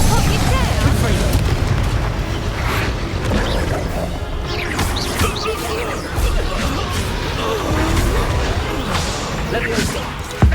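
Confringo fire spell explosions in the video game Hogwarts Legacy, heard as a dense, continuous barrage of loud booms and crashing blasts layered with combat effects, with a voice shouting spell names over them.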